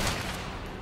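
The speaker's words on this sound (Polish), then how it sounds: "Kurna, 3 strzały?" A rapid burst of gunshots from the video game Resident Evil 4 Remake, dense and loud, crackling continuously through the whole short moment.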